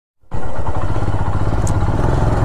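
A motorcycle engine runs loud and close while the bike is being lifted onto a vehicle, a steady throbbing drone that starts abruptly after a brief silence and holds to the end.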